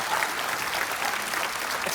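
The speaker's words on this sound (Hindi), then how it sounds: "जोरदार ताली लेने के लिए" Studio audience at a Hindi TV comedy show breaks into loud, sustained applause, steady dense clapping filling the whole moment without pause.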